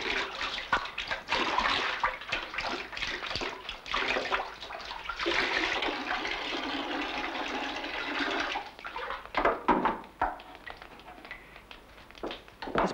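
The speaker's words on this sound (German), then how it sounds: "Zu diesem Zweck wäscht die Darstellerin das Fass mit heißem Wasser aus." Hot water sloshes and swirls inside a wooden rotary butter churn being washed out, splashing steadily with some bumps and knocks, close by.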